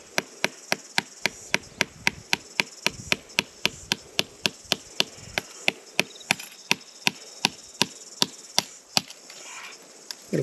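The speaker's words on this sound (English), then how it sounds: "If you hammer that in first, they go in straight." Pins are hammered into a possum trap as a rapid, steady series of about thirty sharp metallic taps, close and crisp over quiet outdoor background.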